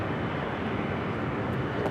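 Airliner taking off from a runway, a dense, steady roar of engines at high power that holds constant and fairly loud for the whole moment, with no voices over it.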